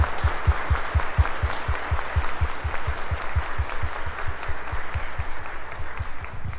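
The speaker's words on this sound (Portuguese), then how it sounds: "vamos dar uma salva de palmas, acolhendo eles novamente em nossa comunidade" A church congregation at a parish Mass applauds steadily, with a dense, even patter of many hands clapping in a regular rhythm for several seconds and no voices on top.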